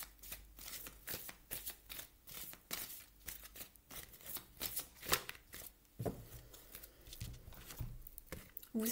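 Oracle cards are shuffled by hand for a reading, producing a close run of rapid papery riffles, flicks and soft slaps in irregular bursts, with no talking.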